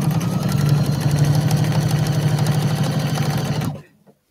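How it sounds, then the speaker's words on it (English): A sewing machine stitches down quilt binding, its motor whirring steadily with a fast needle rhythm, close and loud, for nearly four seconds before stopping abruptly. "I'm going to sew down this side to the other corner."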